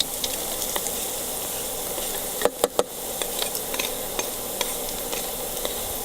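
Chopped onion and garlic sizzle steadily in a hot frying pan for sweet chili chicken, a continuous close crackle broken by a few sharp stirring clatters partway through.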